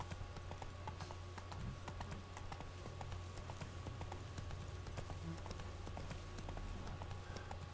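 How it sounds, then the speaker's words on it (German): Horse hooves clip-clopping steadily along a path while riding in The Witcher, a continuous mid-level trotting rhythm over a constant low game ambience hum. "Ich glaube, wir reiten am besten mal hier unten den Weg lang."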